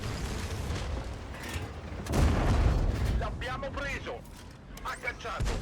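Heavy tank cannon booms in World of Tanks, a couple of deep blasts with rumbling impacts, mixed with someone talking over the action.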